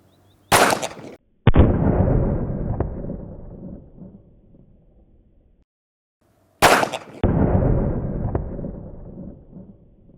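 Two sharp, loud gunshots from a Glock pistol with a shorter barrel firing GT Research rounds into a gel block, several seconds apart, each followed by a long booming outdoor decay.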